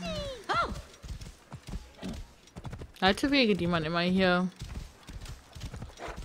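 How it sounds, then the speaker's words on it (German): Hooves of a horse ridden in the video game Assassin's Creed Origins clip-clop rhythmically, with a loud whinny midway, under someone talking in German over the game sounds. "Pferdchen."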